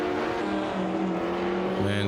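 Vintage 1960s sports race cars, among them a V12 Ferrari 250 GTO, roar past at trackside at Riverside in a racing game, a loud, brief engine howl with shifting pitch.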